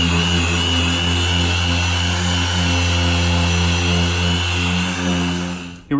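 Power tool cutting through damaged bodywork on a car in a home garage, a loud steady buzzing drone with strong harmonics running continuously and alone before cutting off abruptly at the end.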